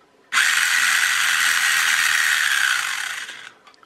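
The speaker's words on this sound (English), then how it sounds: "as soon as we start going forwards again, the motor starts off in reverse" A cheap RC electronic speed controller drives its motor in reverse after a full brake, giving a loud, steady, high-pitched whine with a ratcheting buzz that starts abruptly, holds for about three seconds and then tapers off.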